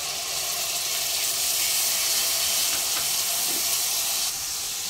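Tomato paste sizzling in a hot pan with onions, ginger and garlic for fish biryani, a steady close hiss throughout with no talking.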